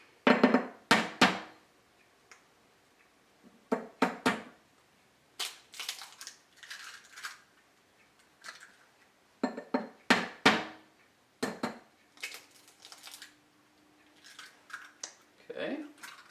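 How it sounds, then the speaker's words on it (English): Eggs cracked for a mini BBQ meatloaf mixture of minced onion, salt and pepper: a few sharp, close cracks and taps against a bowl come in short clusters, with quiet gaps between them and soft kitchen handling. "I'm going to crack a couple of eggs"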